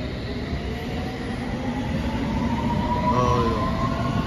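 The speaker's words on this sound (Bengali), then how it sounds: "it is yellow line, it is the district line." A London Underground District line train arrives with a loud, close, steady rumble of wheels on track, swelling toward the end with faint squealing tones, and no voices.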